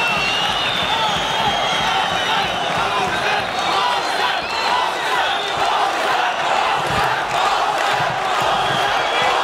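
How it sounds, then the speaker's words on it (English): Arena crowd at an M-1 bantamweight MMA fight cheering and roaring steadily, a loud sustained wall of voices with scattered shouts and claps throughout. "the crowd are going crazy here"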